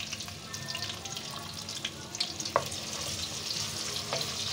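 Chopped onions for palak keema sizzle and fry steadily in a hot pan, with a sharp clatter as they go in and a continuous crackling hiss throughout, no talking.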